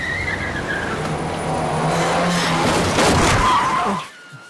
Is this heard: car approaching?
yes